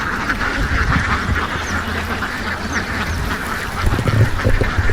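Kuttanad ducks in Kerala quack steadily as a dense flock, with many overlapping calls close by and a constant noisy wash of activity underneath.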